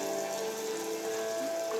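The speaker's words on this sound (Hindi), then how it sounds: "अचानक बारिश कितनी तेज हो गई।" Heavy rain falling at an ashram, a dense steady hiss of downpour with no letup, close and even, with a faint tonal hum running beneath.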